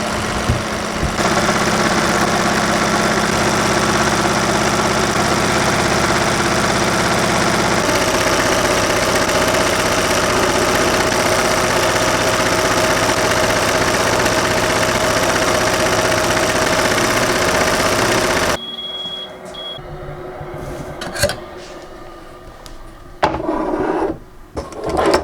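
An embroidery machine stitching a design onto a blank hat gives a loud, steady mechanical whir with a fast rhythmic buzz. It runs continuously, then stops, leaving quieter clicks and handling noises.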